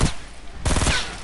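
A pump shotgun fires in Fortnite, a single loud blast followed by a quick second report, close and punchy.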